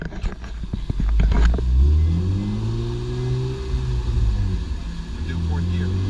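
A 2006 Honda Accord V6 on a dyno, pulling in fourth gear from 3,000 to 7,000 rpm, rumbles low then climbs in a long rising engine whine, with talk over the start of the run.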